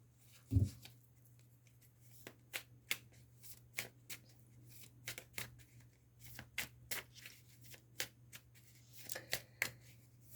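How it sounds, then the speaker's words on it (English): Tarot cards are shuffled and flipped close by, a quiet series of crisp papery snaps and riffles in an irregular rhythm over a low steady hum, with no talking. "So a card flip, the World card"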